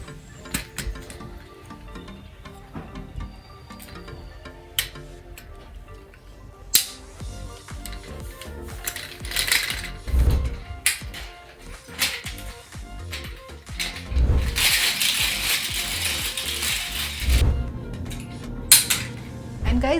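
Plastic segments of a weighted hula hoop are fitted together, producing scattered sharp clicks and clacks with rustling handling noise and irregular louder knocks, close up and without speech.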